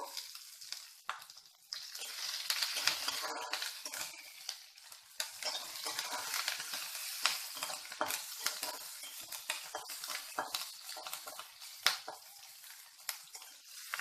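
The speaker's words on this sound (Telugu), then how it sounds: "ఇందులో మనము కరివేపాకుని కొద్దిగా వేసుకుందాము" Curry leaves fry in hot oil in a pan while a Telugu cucumber and green chilli pickle is cooked, giving a steady close-up crackling sizzle with faint stirring scrapes throughout and no talk.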